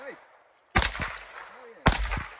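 Two sharp gunshot blasts in a video game, about a second apart, each with a short ringing decay, with faint voices in the background.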